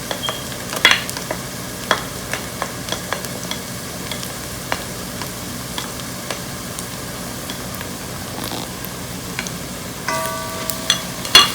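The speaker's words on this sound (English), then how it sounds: "At this point we will add garlic and ginger paste." Garlic and ginger paste fries with browned onion in a pan for mutton curry. A steady sizzle is punctuated by regular sharp taps of a stirring spoon against the pan.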